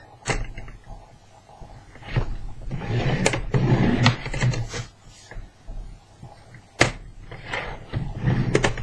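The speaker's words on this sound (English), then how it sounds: "I'll line up on here and I'll score 3/4 of an inch on all 4 sides" Cardstock being scored on a scoring board at 3/4 inch along all four sides of a small candle box, a run of sharp scraping strokes and soft thuds as the paper is pressed, lined up and turned, heard close up with no talk.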